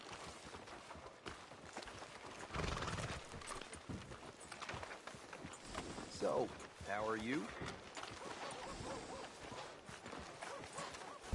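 Horse hooves clip-clop in a steady walking rhythm, mid-distance, with a whinny and quiet conversation over it, in the video game Red Dead Redemption 2.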